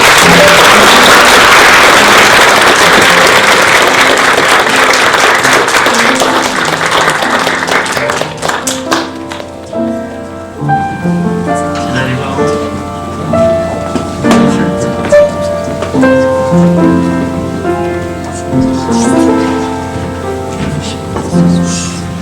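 Wedding guests at a ceremony applaud loudly and densely during the candle lighting, and the clapping tapers off after about ten seconds into soft music with scattered claps.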